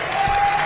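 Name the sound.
applause for a coach's hall of fame induction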